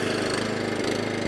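An Atco Balmoral cylinder lawnmower engine runs close by, a steady, busy mechanical drone with a fast rhythmic chatter and no voices over it.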